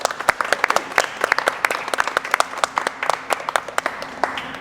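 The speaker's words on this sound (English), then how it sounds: "Let's give them a little round of applause." A small audience claps steadily for several seconds, scattered individual claps standing out, moderately loud with no voices over it.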